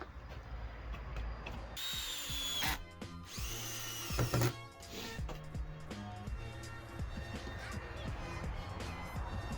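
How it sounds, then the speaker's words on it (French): A power drill drives large screws into a wooden rail for a walnut live-edge console table, with whirring bursts of the motor at close range and strained, rising pitches, plus clicks and handling noise between runs. "je vais venir les installer avec de grandes vis dans ma traverse"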